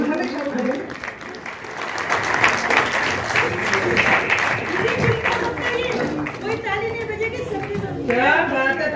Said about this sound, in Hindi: इस बार मंच की तरफ से आ रही है एक ताली।